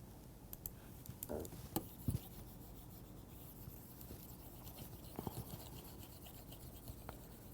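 Writing being erased from a board, quiet intermittent rubbing and scratchy strokes with short bursts and pauses, faint and close, with no talking.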